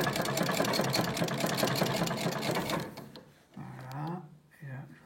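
An antique Singer treadle sewing machine, started by hand, clatters in a rapid, steady rhythm for about three seconds, then stops, and a voice speaks.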